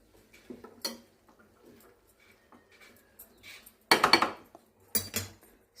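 A spoon stirs sorakaya (gourd) curry in a pan, making sparse light clinks and taps, then two louder scraping bursts toward the end, close and otherwise quiet.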